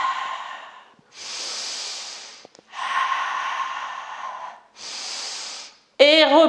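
Long breathy exhales during a yoga session, several drawn-out breaths of a few seconds each separated by short pauses, close and clear, with a brief voice at the end.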